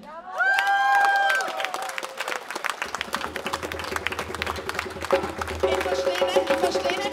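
Applause and cheering from an audience at a Left party campaign rally break out loudly, a dense wash of clapping that stays steady for several seconds, with some speech woven through.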